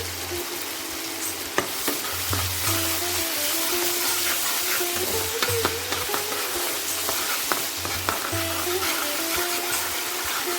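Food frying and being stirred in a pan while cooking hing posto enchor (young jackfruit with poppy seed paste and salt), a steady sizzle with scraping stir strokes throughout, close and fairly loud, with no voices.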